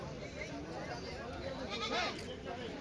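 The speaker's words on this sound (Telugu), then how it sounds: "కృష్ణ ఎంత పెద్ద ఇవి ఎర్ర పొట్టేళ్ళు?" Rams bleat among the sheep and goats at a weekly Tuesday livestock market in Kadiri, the calls rising over constant crowd chatter and people talking nearby.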